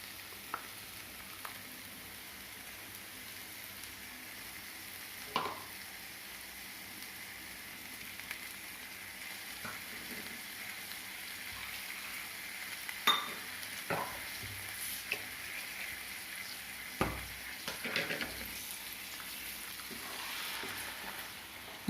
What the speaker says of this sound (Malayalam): മുട്ട ഇതിലിട്ടിട്ട് നല്ലപോലെ വഴറ്റി